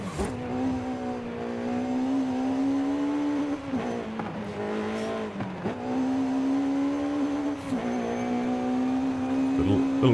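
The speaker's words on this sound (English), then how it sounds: "Little rev limiter action there." A car engine hums at high, steady revs in Forza Horizon 5, briefly dipping and returning to a flat, held pitch several times, loud and continuous with small tire noises.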